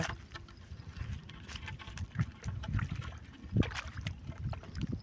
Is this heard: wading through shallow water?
yes